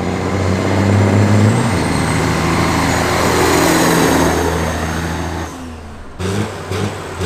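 A diesel semi truck running bobtail launches hard in a grudge drag race, a loud, close engine roar that builds and holds, then drops off with a brief hiss near the end.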